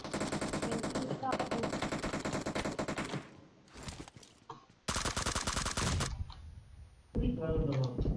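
Rapid automatic gunfire in the PUBG Mobile video game, long loud bursts broken by short pauses, with a player talking briefly between volleys.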